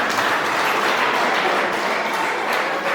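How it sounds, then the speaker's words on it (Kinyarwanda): A crowd claps steadily for local officials at a traditional Rwandan cultural performance evening, dense continuous applause filling the space at a constant level. "nabo munize amashyi tubashimire"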